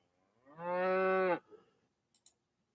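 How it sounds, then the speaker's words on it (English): A single cow moos loudly for about a second in a farm setting, a long sustained bellowing call, followed by a few faint clicks. "beyond the cow in the background"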